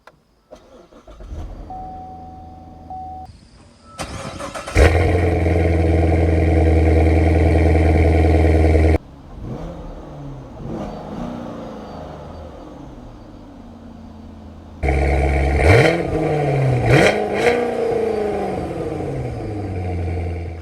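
A 2019 C7 Corvette Stingray's 6.2-liter V8 cranks and catches, then the exhaust roars through several loud revs with pauses between, close and powerful, no talking.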